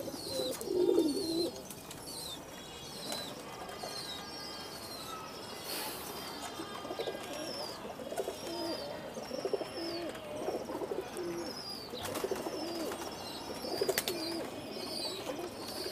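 Pigeons coo at feeding time in a low, soft murmur, with sparse chirps from other birds and a few faint knocks over a quiet outdoor background.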